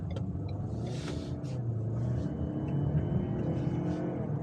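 A 2020 Ford Edge Titanium accelerating hard from inside the cabin, its engine note a steady low rumble that climbs gently and holds without a break.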